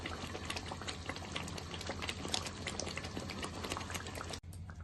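Palak paneer curry simmering in a pan over a medium flame, a steady close bubbling and hissing that continues without a break before a brief dip near the end.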